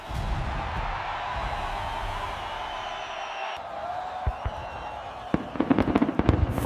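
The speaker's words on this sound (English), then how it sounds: "Fireworks launch from multiple levels of the tower." Fireworks launch from several levels of the Burj Khalifa at its opening ceremony in Dubai. A steady roar of a large crowd fills the air, then a flurry of sharp distant bangs and crackles builds toward the end.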